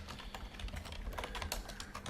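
Steady, rapid typing on a computer keyboard at a Linux terminal, with dense clicking keystrokes heard up close and alone throughout.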